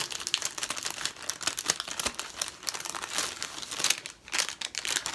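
Packaging of a 12-day Advent calendar being torn and unwrapped up close, with steady crinkling, crumpling and ripping of paper and plastic that runs the whole time without pause.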